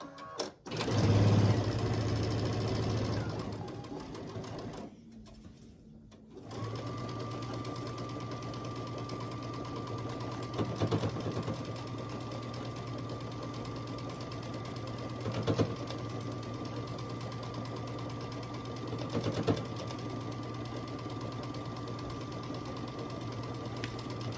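A sewing machine stitches down the final row of a quilt block, a steady mechanical whir running continuously for most of the stretch after a brief pause and restart near the start, close and fairly quiet.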